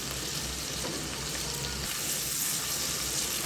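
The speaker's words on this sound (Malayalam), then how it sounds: "ഒന്ന് ഇളക്കി കൊടുക്കാം." Tomato and onion frying in a pan as they are stirred, giving a steady, close, even sizzle that runs throughout with no talking.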